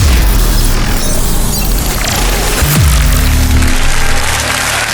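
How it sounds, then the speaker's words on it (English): Crowd applause and cheering sound effect on a cannabis-themed podcast, a dense, loud roar of clapping and voices filling the whole stretch with a crash partway through. "And the crowd goes wild."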